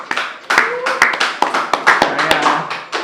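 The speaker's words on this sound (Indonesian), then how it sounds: "Luar biasa, tepuk tangan dulu." Small group of people clapping at an NGO industry talk, sparse distinct hand claps in an uneven rhythm, fairly close, with a few voices underneath.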